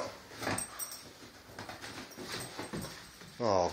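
A dog whimpers and yips excitedly during indoor play with squeaky toys, the sounds scattered in short bursts before a louder final whine.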